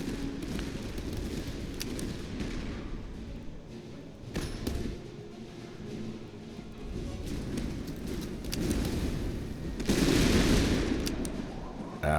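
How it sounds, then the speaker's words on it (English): In the Master of Command video game, canister artillery and musket volleys crackle at a distance. Scattered shots and rumbling fire build into a louder burst near the end, and a voice talks over the battle. "Ouch, that canister fire is nasty."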